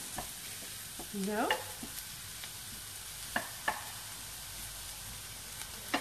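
A main course for a Christmas menu sizzles and simmers in a pan, a steady frying hiss with a few stirring scrapes and clicks, close by and alone.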